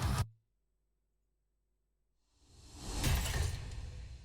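A brief hit cuts off into silence, then a swelling whoosh rises and peaks into a broad, noisy burst that slowly fades.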